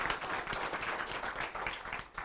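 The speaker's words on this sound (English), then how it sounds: "Let's have a round of applause for our round one spellers." An audience at a spelling bee claps for the spellers, a dense, even round of applause heard close and lasting the whole moment.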